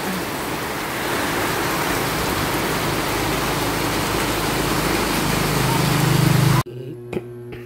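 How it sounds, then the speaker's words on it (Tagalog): Heavy rain in Camiguin, a dense, loud, steady roar of downpour on surfaces that continues unbroken for several seconds before cutting off abruptly. "ay lakas ng ulan"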